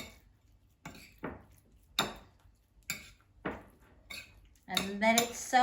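Chicken being mixed with potato starch and egg in a bowl, with a utensil tapping and clinking against the bowl in regular strokes, ending in a louder burst of clatter and scraping.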